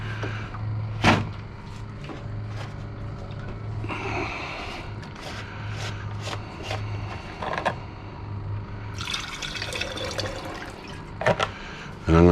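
Hydrochloric acid is poured into a container of gold-plated RAM parts, intermittent splashes and liquid trickles with sharp clinks over a constant low hum, spread across several seconds.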